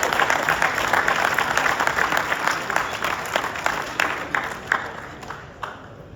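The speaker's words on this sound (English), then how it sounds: "Yes, we can applaud." A gala audience claps steadily, a broad wash of applause with distinct individual claps that gradually thins and fades toward the end.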